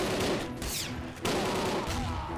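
Gunfire and grenade blasts in a fight in the El Matador PC video game, dense overlapping shots and bursts filling the moment, loud and continuous without speech.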